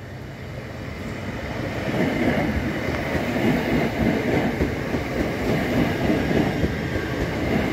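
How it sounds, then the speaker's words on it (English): A train rolls slowly past on a railway near a level crossing in Southend, a broad rumbling roar that swells after a couple of seconds and holds steady, with no talking. "because there's a train in front of it, this one's moving relatively slowly"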